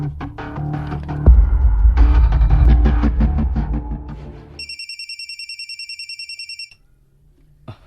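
A cellphone rings in a repeating electronic trill for a couple of seconds, loud and close, after a burst of louder background noise, with no talk over it.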